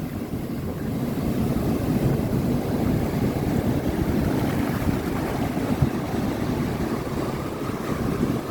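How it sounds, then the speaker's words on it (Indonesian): Big ocean waves rolling and crashing along a shore, a continuous loud roaring wash mixed with wind buffeting the microphone, steady throughout with no voices. "Ombaknya gede."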